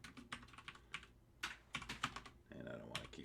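Rapid, uneven keystrokes on a computer keyboard during Java coding, with a short burst of denser clatter near the end, close and fairly clear.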